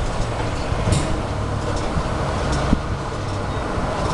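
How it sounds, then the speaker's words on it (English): Gasoline flowing from a pump nozzle into a pickup truck's fuel tank, a loud, steady rushing and gurgling flow with a low rumble beneath and a few faint clicks, with no talking. "Gas is flowing into the tank."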